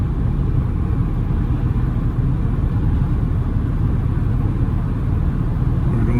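An old Chevy S10 pickup cruising at 55 mph, a steady low engine rumble and road roar heard from inside the cab, constant and unbroken throughout.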